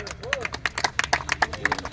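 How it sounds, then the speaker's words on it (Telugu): Audience clapping at a community gathering honouring Durga madam, a scattered run of close, uneven hand claps over a murmur of voices and background talk. "దుర్గా మేడం గారికి ఒకసారి గట్టిగా చప్పట్లు కొట్టాలా"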